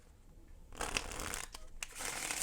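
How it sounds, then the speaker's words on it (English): Playing cards are riffled and shuffled with one hand, producing soft flicking bursts and crisp snaps close by, no voices. "Anyway, one-handed shuffles work just fine."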